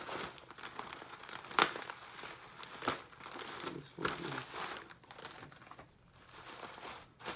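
Close, loud crinkling and rustling of the plastic bag packaging of an Adidas hockey jersey being handled, irregular crackles with louder bursts throughout.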